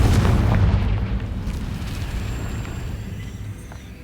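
A Confringo fire spell detonating in Hogwarts Legacy, a loud booming blast at the start that rumbles and slowly fades away over several seconds.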